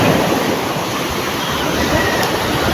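Sea waves wash continuously onto a beach, a loud, dense, unbroken roar of surf without pauses or voices.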